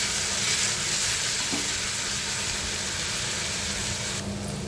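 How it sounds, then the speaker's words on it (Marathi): Tomato puree and onions sautéing in a pan, a steady close hiss and sizzle that holds evenly throughout with no talk over it. "आता याच्यामध्ये टोमॅटोची प्युरी घालूया आणि ते कांद्यासोबत आपण परतून घेऊया व्यवस्थित"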